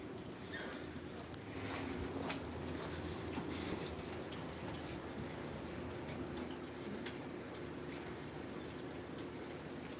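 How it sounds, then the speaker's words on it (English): Steady, even wash of rain falling outdoors, continuous and moderately loud with scattered drips and splashes over a low constant background, no pauses through the whole stretch. "And now it's raining, Lois."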